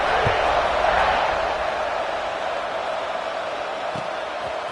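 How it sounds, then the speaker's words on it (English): A football stadium crowd buzzes with a broad, steady roar after a score, loud and continuous throughout with faint thuds underneath. "this crowd is buzzing after that last score"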